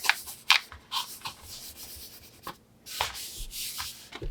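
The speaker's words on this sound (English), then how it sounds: "I'm rubbing back and forth, very careful." Paper print being rubbed smooth by hand onto a miniature dollhouse bathroom wall, close and soft, with repeated back-and-forth scuffing strokes broken by short pauses.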